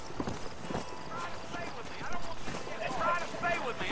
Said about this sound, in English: does, like, your horse do the Epona thing where it's like, oh, I'm tired now, don't run me so hard